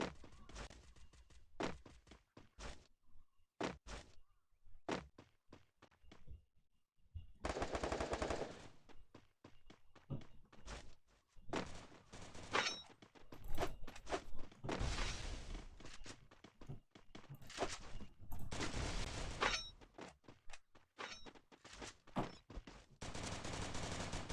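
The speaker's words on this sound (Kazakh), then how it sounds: "Екеуі атысып отыр, рашт етіп бір-бірі." Repeated bursts of rapid gunfire from the video game Free Fire, some short single shots and some long sustained volleys, loud and close.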